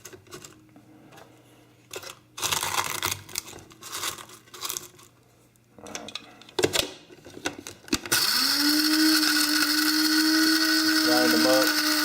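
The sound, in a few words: grinding egg shells in a grinder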